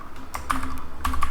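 Quick, light keystrokes on a computer keyboard, a handful of soft clicks in an uneven rhythm, close and fairly quiet against a faint background hum.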